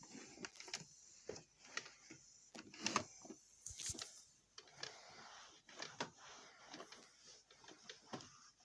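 An old coffee machine makes a strange noise while heating up: faint irregular clicks, ticks and short rattling bursts, with scattered mechanical knocks in a quiet room.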